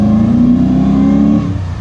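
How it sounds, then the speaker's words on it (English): A 2012 Camaro SS with traction control engaged revs hard during an attempted burnout, holding a loud, close, steady engine roar that eases off slightly near the end. "He's trying to do a burnout with it, but it's got traction control."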